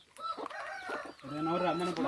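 A hen on an organic egg farm clucking in short, close calls, with people talking nearby.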